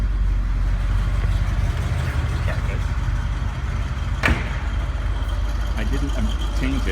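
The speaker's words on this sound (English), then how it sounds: "She sounds great. I did not do anything with the exhaust on the car." Idling 1979 Corvette V8 with a 4-speed and its factory exhaust, a steady low rumble running close and constant throughout, with a brief sharper knock partway through.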